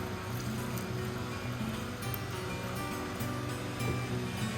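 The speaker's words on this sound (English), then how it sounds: "Give them a quick rinse, see what we've got." Water rinses tumble-polished agate rocks, a dense, continuous rushing and splashing wash that holds fairly steady with faint knocks mixed in.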